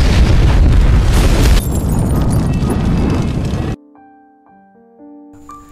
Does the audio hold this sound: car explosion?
yes